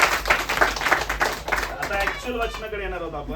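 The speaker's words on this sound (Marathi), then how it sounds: "त्याच्यासाठी जोरात टाळ्या वाजवूया आपण" A church congregation claps loudly in a quick, even rhythm for a few seconds, then the clapping fades under a voice as he begins speaking.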